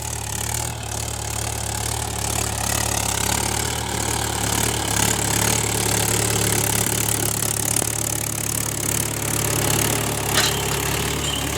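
A tractor engine idles steadily throughout, a continuous low, throbbing rumble with a slight knock that holds at the same loudness, close by and with no talk over it.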